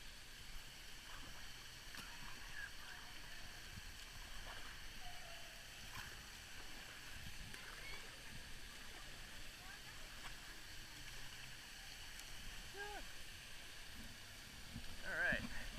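Gentle flowing water and light splashing on the lazy river at Disney's Blizzard Beach water park at Walt Disney World, a steady low wash with faint background chatter throughout.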